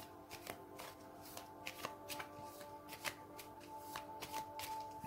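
Tarot cards are shuffled by hand, a close, quiet series of crisp riffling flicks and taps repeating in an uneven rhythm over a faint steady hum, with no speech.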